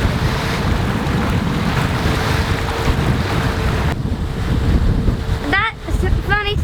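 A Watt & Sea hydrogenerator runs on a sailboat at sea, its faint steady whine sitting under constant wind buffeting and rushing waves, with a few short squeaky chirps near the end.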